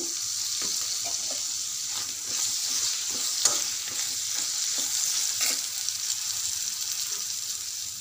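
Salted brinjal pieces with a little turmeric fry in a pan, giving a steady, close sizzle broken by the scrape and clatter of a spoon stirring them at intervals.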